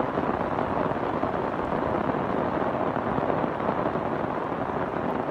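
Heavy rain pouring down on a hillside, a dense, loud, even hiss that holds without a break for the whole stretch, with no voices.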